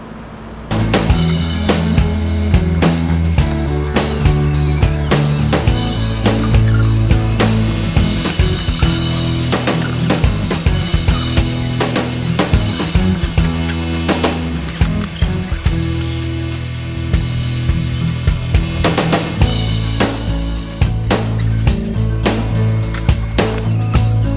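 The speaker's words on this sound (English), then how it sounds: "we'll go with a little die grinder, a wire brush, and clean up all these areas" A die grinder with a wire brush scrubs steel on a Jeep YJ fuel tank crossmember, a loud, continuous buzzing grind with scattered metallic clinks and rattles running throughout.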